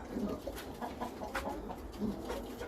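Pigeons inside their coop give soft, low coos, several overlapping murmurs heard close but quietly against faint background noise.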